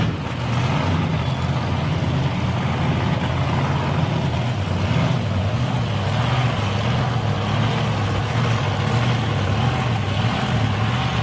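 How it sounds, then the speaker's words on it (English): Supercharged drag racing cars firing up and spinning their tyres at a nationals elimination meet, a steady loud engine roar with a pulsing, wavering low drone that holds for the whole stretch, no talk. "you'll hear a couple of supercharged cars erupt"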